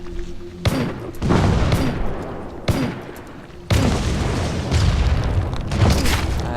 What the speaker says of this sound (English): So if I fire the left mouse button, it looks like they explode on contact.